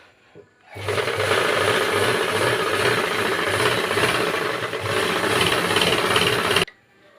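A sewing machine stitches layered waste cloth for a door mat, running in one loud, steady mechanical whir with a rhythmic clatter, starting and stopping abruptly, with no voices.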